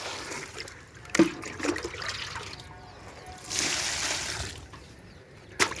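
Fermented liquid fertilizer trickling and splashing onto brinjal plants in a home garden, a steady close pour with a heavier gush midway and a few sharp knocks, no talking.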